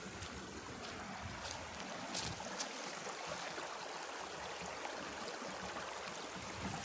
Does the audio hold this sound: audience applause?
no